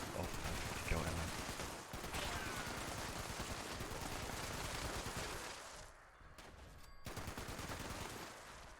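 A .50 cal heavy gun fires at mole miners in Fallout 76, a dense and continuous rapid stream of shots that runs nearly unbroken, with only a brief pause near the end, loud and up close.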